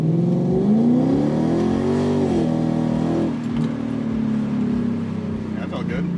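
Infiniti Q45 running on E85 fuel accelerates close by: a loud, steady engine note climbs in pitch over about two seconds, then drops back and settles into a lower drone, with a few brief clicks and knocks near the end.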